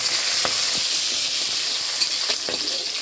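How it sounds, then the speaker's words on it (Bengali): Green chillies, ginger and garlic fry in oil in a wok, a continuous close sizzle broken by several short clicks and scrapes of stirring, with no speech. "এখন আমি কাঁচা লঙ্কা আদা রসুন একসঙ্গে ভেজে নিচ্ছি"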